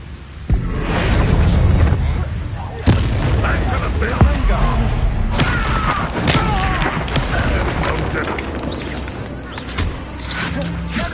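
A Bombarda explosion spell in the Hogwarts video game, a loud booming blast followed by further explosive hits and rumbling battle effects, with a voice speaking over the game sounds.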